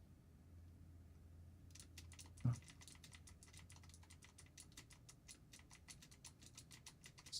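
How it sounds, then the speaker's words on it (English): Fingers typing rapidly on a noisy computer keyboard, dense close clicking that starts abruptly after a moment of quiet and a single thump, then continues in a fast irregular patter. "You can hear my fingers clicking away like crazy things."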